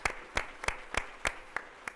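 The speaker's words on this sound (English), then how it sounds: "Let's give a big round of applause to all of our donors and our Guardian Angel here tonight." Rhythmic clapping at a Loyola Academy fundraising night honoring donors, sharp evenly spaced claps about three per second, fairly close and distinct over a faint roomy background, with no talk.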